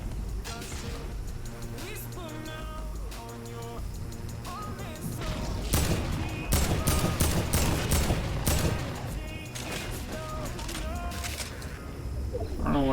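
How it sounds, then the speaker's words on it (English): Rapid bursts of gunfire in a Fortnite match, loud dense volleys and crashing hits layered over game music and effects, swelling heaviest midway through the stretch. "I don't know why you shooting, dude."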